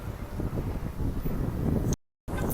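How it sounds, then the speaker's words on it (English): Gusty wind buffets the microphone outdoors at a jet ski spot, a steady rushing roar that briefly cuts out and returns. "It is real windy."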